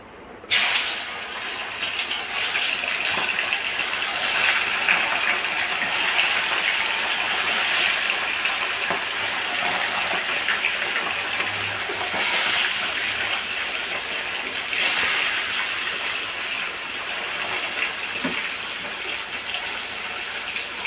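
Sardine fish frying in hot oil on a stove for a fish curry, giving a steady, close, bright sizzling hiss with occasional louder crackling bursts.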